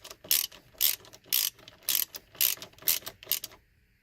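Ratchet clicking as Torx bolts are tightened on the horn of a 1999 Toyota Sienna, heard as about seven short, bright ratcheting bursts in a steady rhythm, close and clear, ending in silence.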